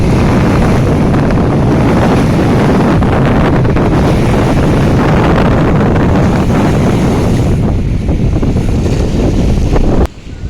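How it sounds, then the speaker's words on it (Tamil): Strong wind buffeting the microphone over waves on the Puttalam lagoon in the evening, a loud continuous roar of wind and surf with no talk, cutting off abruptly near the end. "காற்று கூட தான் அலைகள் வேகமாகுது."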